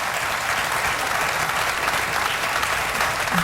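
A studio audience at a late-night talk show applauds steadily, a dense, even wash of clapping from many hands with no voices.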